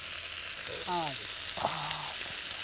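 Village fish frying in a pan gives a soft, steady sizzle close by, with a brief clatter as it is flipped and faint voices in the background.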